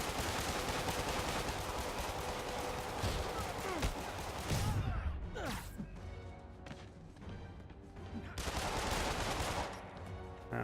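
Armed thugs fire guns in Marvel's Spider-Man, a dense, continuous barrage of shots mixed with crashes and thuds. The din briefly thins in the middle before the heavy, noisy gunfire picks up again.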